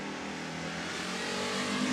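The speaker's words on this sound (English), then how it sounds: "Tim Mason from Melcher is going to bring that 1971 Pontiac GTO to the starting line and going to make a run down that left side Renegade Race Fuels lane." A 1971 Pontiac GTO drag racer roars down the strip, its engine loud and steadily rising for a brief moment with no voices.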